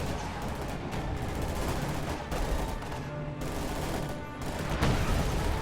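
Heavy artillery and gunfire rumble through a World War II style strategy game battle, with dense booming blasts and rattling shots rolling continuously and a louder impact toward the end.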